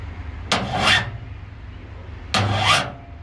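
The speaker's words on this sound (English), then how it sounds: "when you're filing with this type of file, this is what you call a half crescent" A half crescent file dragged across metal in two separate one-direction strokes. Each rasping stroke lasts about half a second and sounds close and clear, with a quiet pause between the strokes.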